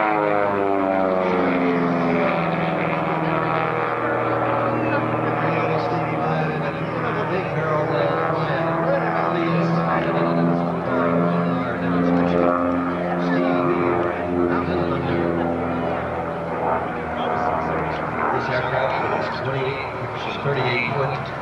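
A propeller-driven aircraft engine roars steadily and loudly throughout at the Fairchild Air Force Base homecoming air show, a close pass near 200 mph, with an announcer talking over it on the PA.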